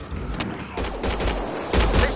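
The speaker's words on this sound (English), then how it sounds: "They shot him!" Video game gunfire from Mass Effect Andromeda: rapid bursts of shots in a loud, dense fusillade that comes in several waves with no talking.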